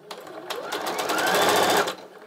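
Sewing machine stitching quilt pieces with a quarter-inch foot, a steady close motor whir with fine rapid needle rhythm running for about two seconds, rising slightly in pace before stopping.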